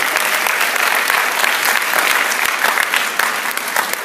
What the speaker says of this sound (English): Can we give our guests a round of applause?